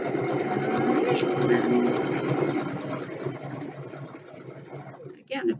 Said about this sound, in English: You want to make sure you start sewing right at the beginnings of the fabric.